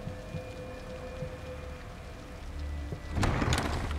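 Rain falls in the horror video game The Evil Within, a soft steady patter with a low hum underneath that swells into denser, louder splashing near the end.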